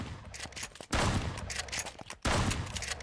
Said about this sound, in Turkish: şurada çatışma var